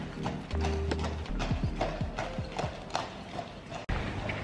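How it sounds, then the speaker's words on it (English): A horse-drawn carriage trots along cobblestone streets in a picturesque Belgian town, the horse's hooves clip-clopping in a steady, fairly close rhythm over light street ambience. "there's horse and carriages trotting along the cobbles"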